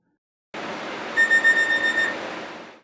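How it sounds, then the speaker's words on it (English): A cockpit door buzzer on a Germanwings flight recording sounds as a steady electronic tone over cockpit hiss, pulsing several times for about a second before stopping. "the cockpit door buzzer sounded"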